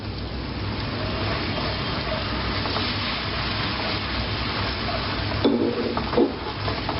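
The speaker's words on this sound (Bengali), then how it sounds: "টমেটোটা পেস্টটা দিয়ে আরও কিছুক্ষণ আমি ভালো করে কষিয়ে নেব" Spices and tomato paste stirred and fried in a large pot for a wedding-style catla fish curry, over a steady roaring background, with a couple of scraping clatters of the spoon against the pot near the end.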